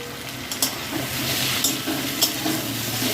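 Chopped tomato hits hot oil with frying onions in a pan while cooking a Bengali fish-fritter curry, giving a steady close sizzle with a few soft stirring scrapes and clinks throughout.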